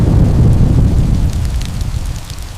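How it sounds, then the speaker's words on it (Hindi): Heavy rain pours down in a steady, dense roar on a stormy night, loud and continuous with no voices, easing slightly toward the end. "जोरदार बारिश हुई।"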